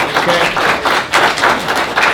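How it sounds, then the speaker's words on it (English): Scattered audience clapping at a city council meeting, a fairly loud, close patter of hands that swells and dips in rhythmic waves, with no talking over it. "that's something to clap for"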